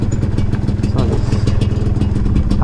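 MXF 250 TS dirt bike engine running on a trail, a steady close, rough mid-pitched drone holding throughout under wind and handling clatter.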